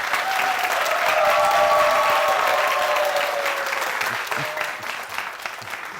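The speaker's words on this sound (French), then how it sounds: "Je vais vous demander de l'accueillir avec beaucoup d'applaudissements" On a BF1TV television show, a studio audience breaks into loud, sustained applause to welcome an afro-trap artist. The dense clapping fills the room, with a faint tonal sound underneath, and gradually thins out toward the end.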